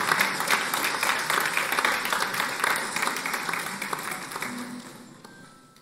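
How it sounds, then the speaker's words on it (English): Audience applause at a choir's 10th anniversary concert, a steady crowd clapping that fills the room for several seconds, then gradually thins and fades toward the end. "Can we give him a round of applause as he stands?"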